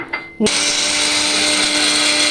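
A mixer grinder whirs to life after a brief click and keeps grinding coconut, cumin and coriander seeds loudly and steadily, its high motor whine constant throughout.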